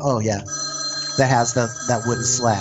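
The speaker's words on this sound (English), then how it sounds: "I'm sorry about that phone." A telephone rings in a room at the historic 1858 Garnett House hotel, its steady electronic tone running beneath conversation as several people keep talking over it.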